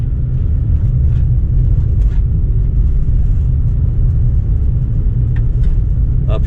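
A car drives slowly over an icy road past scrapyards and tow yards, giving a steady, loud low rumble of engine and tire noise with faint crackles throughout and no talking.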